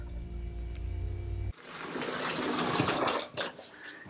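Running water rinses a kallitype print in a darkroom, a close, steady gush that starts abruptly after a low hum and carries a few splashes.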